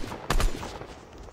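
Burst rifle firing in Fortnite Chapter 2, Season 3: a quick cluster of sharp shots at the start, then fading into low background game noise with no voices.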